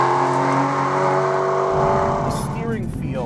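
Aston Martin V12 Vantage S V12 engine droning loudly and steadily as the car is driven, its note shifting near the end, with tire noise mixed in.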